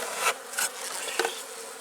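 Honeybees in a hive infested with wax moths buzz close up in a continuous hum that swells briefly a few times.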